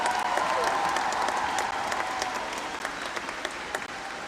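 Sustained audience applause for a pipe band at a concert hall, a dense, even wash of many hands clapping at moderate loudness, fading slightly toward the end.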